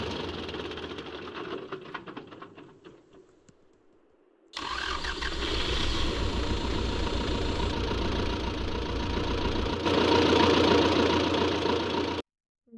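A tractor engine in Farming Simulator 22 runs with a rough, steady mechanical idle. It cuts out briefly, then restarts into a louder, continuous chugging drone that lasts for several seconds before stopping abruptly.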